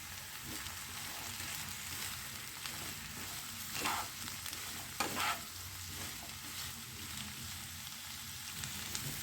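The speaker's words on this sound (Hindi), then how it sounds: "हम हाई फ्लेम पर ही अपनी सब्जियों को फ्राई कर लेंगे।" Mixed vegetables fry in oil over a high flame, giving a steady, close sizzle with stirring scrapes and occasional louder spatters, with no talking.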